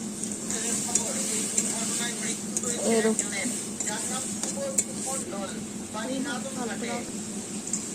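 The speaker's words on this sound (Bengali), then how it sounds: "এতে একটু আমি জল দিয়ে দিচ্ছি।" Vegetables frying in oil in a home kitchen hiss in a steady, loud sizzle after water goes into the pan, with faint stirring clatter throughout and no talking.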